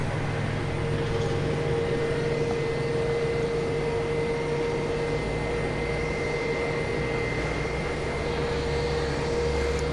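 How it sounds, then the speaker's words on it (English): An Asiana Airbus A321 at Gimpo airport produces a loud, steady jet engine roar and whine that holds a constant level throughout, with no talk over it. "It's Asiana flight 8953 in Airbus A321."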